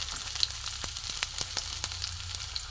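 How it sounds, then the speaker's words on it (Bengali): Chopped onion frying in hot mustard oil in a heated kadai, giving a soft steady sizzle with scattered sharp crackles and pops, close but fairly quiet, no voices. "এখানে আমি পেঁয়াজ কুচি দিয়ে দেবো"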